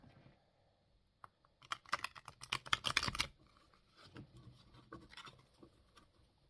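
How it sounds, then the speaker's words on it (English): A deck of tarot cards is shuffled close up: soft handling taps, then a dense rapid riffle of crisp clicks for about a second and a half, then quieter shuffling afterward, with no voices. "let's give these a shuffle."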